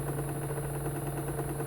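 Gerard Morin replica generator motor running at about a third of its speed, producing a steady close mechanical hum with a constant low tone and a high whine throughout the brief moment.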